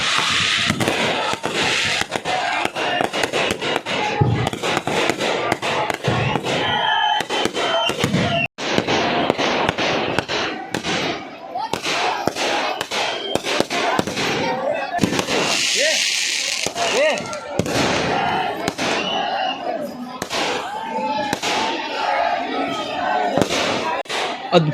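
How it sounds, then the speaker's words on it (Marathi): Fireworks and firecrackers burst at midnight during a crowded celebration at Mhow, Ambedkar's birthplace: a dense, relentless barrage of loud cracks and booms that keeps going, with crowd noise and talk underneath. "रात्रीची फटाक्याची आतिषबाजी तुम्ही पाहतात"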